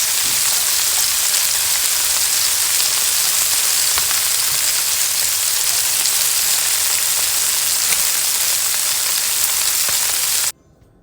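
Chicken wings seasoned with sumac and oregano frying in hot oil, a loud steady crackling sizzle that fills the whole stretch before cutting off abruptly near the end.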